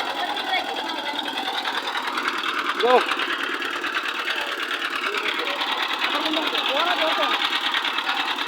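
A steady, droning trawler boat engine chugs continuously and loudly throughout, with a voice speaking briefly over it.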